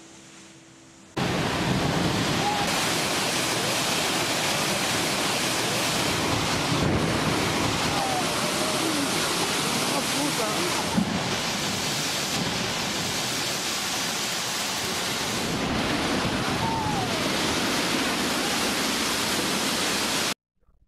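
Powerful ocean waves, up to ten meters high, crash against a coastal town, a continuous loud roar of surf mixed with heavy wind buffeting the microphone for the full length.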